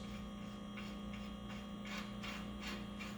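Lug nuts are run down by hand onto a new front brake rotor on a 2001 Ford Ranger, a quiet close ratcheting clatter of rapid clicks that grows slightly louder and rougher toward the end.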